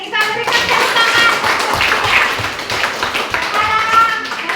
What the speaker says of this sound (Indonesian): Hore, kita berikan tepuk tangan.